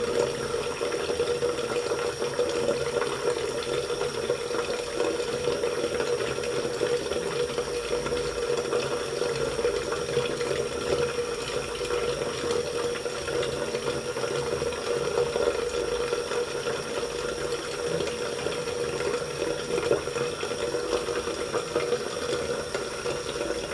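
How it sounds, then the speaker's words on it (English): Tap water runs steadily from a bathroom faucet into a sink, a continuous close, even rushing stream for the whole stretch with no talk over it. "It's also a test to see if the water is flowing or not."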